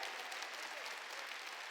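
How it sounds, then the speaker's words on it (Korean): A church congregation claps hands during a Sunday worship service, a brief, even patter of many hands heard faintly and at a distance. "빨리 박수 치라고요."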